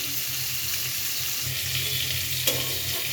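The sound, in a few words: fish frying in a pan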